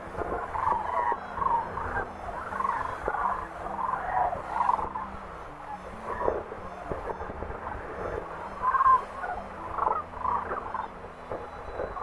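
Rolling, trilling sandhill crane calls repeat over a steady low outdoor rumble during fall migration, several voices overlapping at moderate distance.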